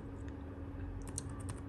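Keyboard typing on a computer while setting up cutting-plotter software, a quiet run of light clicks that grows busier in the second half over a steady low hum.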